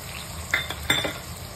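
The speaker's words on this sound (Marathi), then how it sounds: "टोमॅटो पण 2 मिनिटं परतून घ्यायचं, आता अद्रक घालायचं" Tomatoes and ginger sautéing in a pan for a chicken and mutton masala, heard as a brief soft sizzle with two quick clinks of a spoon against the pan.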